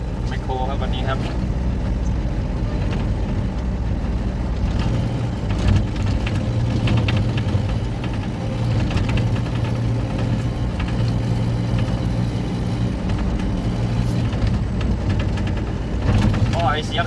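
A backhoe excavator engine with a broken exhaust pipe runs steadily with a deep, rumbling drone heard from the cab, while someone talks over it.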